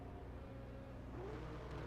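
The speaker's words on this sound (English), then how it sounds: "As John Team revs up the motor and exits the pits." A 1986 Formula 1 car at the British Grand Prix revs its engine as it pulls out of the pits. A dense, steady engine roar fills the clip, with a brief rising whine partway through and no talking.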